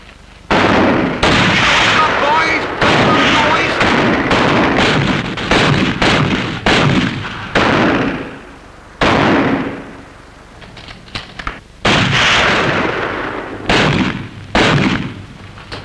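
Naval guns firing in a 1959 naval comedy film scene, a run of loud booming shots and bursts in irregular succession, some close together, with brief gaps between.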